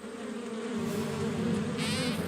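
A swarm of cartoon bees in a My Little Pony scene hums in a dense, continuous drone that swells slightly louder, with a brighter higher buzz layered in near the end. No one speaks.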